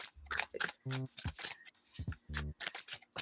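A deck of tarot cards is shuffled in quick riffling bursts, close and crisp, with soft taps and rustles between them.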